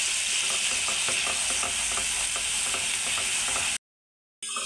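Masala for a Bengali dahi jhinge curry fries in a pan with a little water, giving a loud, continuous sizzle broken by rhythmic scraping from stirring, then cutting to sudden silence.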